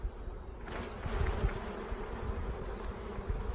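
Honey bees hum around an open beehive frame full of nectar, a steady, fairly soft swarm buzz that continues without pause.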